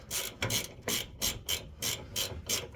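Hand ratchet tightening U-bolts on air bag springs being installed on a 2013 Ford F150: rapid rasping clicks in short back-and-forth strokes, about six bursts, close and alone.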